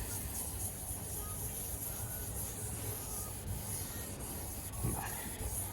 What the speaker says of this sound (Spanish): Siempre que trabajemos lija con agua,